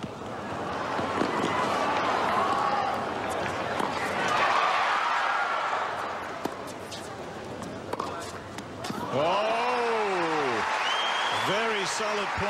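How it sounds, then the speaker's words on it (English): At a night tennis match with Lleyton Hewitt and Nalbandian, a crowd bursts into brief early applause, with a commentator talking over it. Ball thuds and squeaking shoes follow during the rally. "The crowd prematurely giving Lleyton Hewitt the hand, thinking that he'd won the point"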